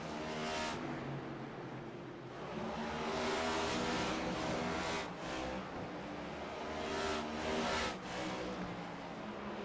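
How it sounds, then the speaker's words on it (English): A race car engine drones steadily at North Wilkesboro Speedway during a stock car series race, with several swelling surges and passes of cars at fairly close range. "As we look at the car coming down pit road."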